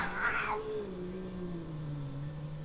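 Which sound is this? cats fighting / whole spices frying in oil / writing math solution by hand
cats fighting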